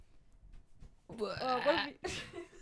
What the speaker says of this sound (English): Sorry, I need to burp him.